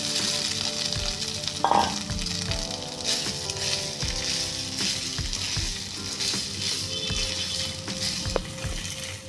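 Mashed potato mixture with turmeric frying and being stirred in a pan for a sandwich filling, a continuous bright sizzle with repeated spatula scrapes and knocks, close and steady with no talking.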